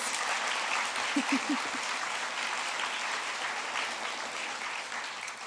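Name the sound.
audience applause for the pianist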